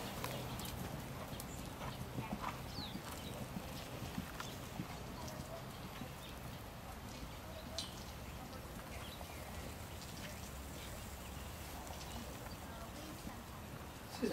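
A stallion cantering in a riding clinic, its hooves drumming in a soft continuous rhythmic pattern at a moderate distance, with some talk in the background.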